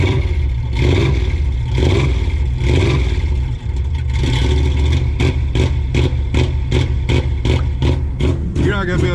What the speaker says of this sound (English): I like that rev limiter. It shakes the whole car.